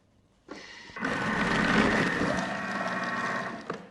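A food processor's chopper attachment whirs up abruptly at fourth speed and runs for about three seconds chopping cabbage, a loud buzzing motor, then cuts off.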